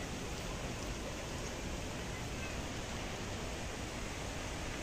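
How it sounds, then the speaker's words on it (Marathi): Heavy unseasonal rain pouring down, a dense steady hiss with no clear thunder rumble. "दणक्यात पाऊस आहे. विजांचा गडगडाट चालू आहे."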